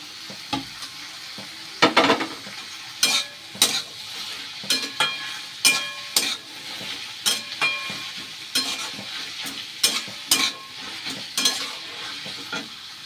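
Tomato and green chili are frying with onions in a pan. A steady sizzle runs throughout, broken by repeated scraping and stirring strokes from a spatula at an uneven rhythm, close and clear with no talking.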